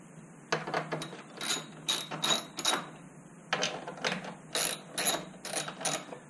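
Ratchet wrench clicking in repeated bursts while loosening bolts on a Honda CRF250L motorcycle's DRC Edge 2 assembly, close and fairly loud with short pauses between strokes.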